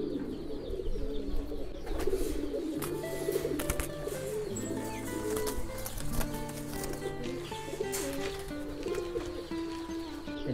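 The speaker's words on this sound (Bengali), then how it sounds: "এই যে ভিউয়ার্স 5 নাম্বার কবুতর।" Fighter pigeons coo repeatedly at close range, with low throaty rolling calls over a busy background of other birds chirping.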